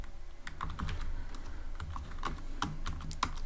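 Typing code on a computer keyboard: quick irregular key clicks close to the microphone, a few sharper taps standing out, no talking.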